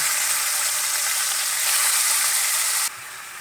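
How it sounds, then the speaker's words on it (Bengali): Chicken pieces fry in hot oil, giving a loud dense continuous hiss close by that drops abruptly in level near the end. "এবার এই তেলে আমি চিকেনগুলো একটু ফ্রাই করে নেব।"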